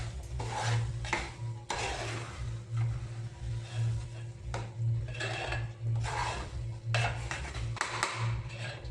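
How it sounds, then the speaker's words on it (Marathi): A spoon stirs cardamom powder into cooking dal for puran poli, scraping and clinking against the pot in repeated strokes over a low, steady hum, with no talking. "वेलचीचं पूड आहे ना डाळीमध्ये मिक्स करायचं आहे"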